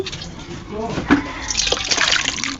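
Fish curry is poured out of a cooking pan into a serving dish in a home kitchen, making a thick liquid gurgle and splash, with a voice talking under it.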